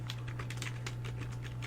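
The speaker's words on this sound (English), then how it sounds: "I'm still typing to the live stream chat because of this." Quick clicky typing on a computer keyboard, close and steady, a rapid patter of keystrokes over a low constant hum, with no voices.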